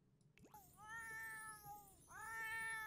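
A cat in The Sims 4 gives two drawn-out, wavering meows, the second following after a short gap, fairly quiet and with no talking over them.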